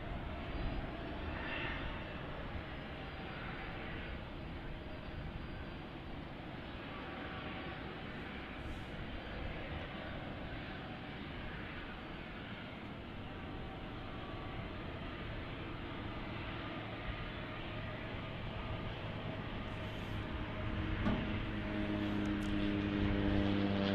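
A small Southern Airway Express propeller plane drones at night at DFW airport, its engine a steady, sustained roar across a wide airfield that swells slightly toward the end.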